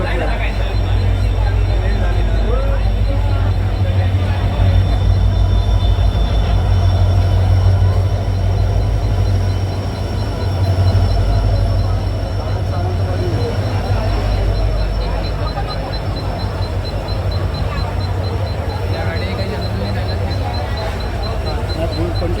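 A crowded Mumbai train arrives at a station platform, giving a loud, continuous rumble throughout with a busy crowd chattering over it.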